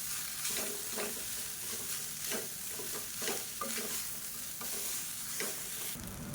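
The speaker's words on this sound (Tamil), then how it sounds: "இப்போ பாருங்கள், நல்லா கிளறியாச்சு" Cooked basmati rice is stirred with curry leaf powder in a pot, giving a steady, soft scraping and faint sizzling hiss with periodic spoon strokes, close but quiet, with no voices.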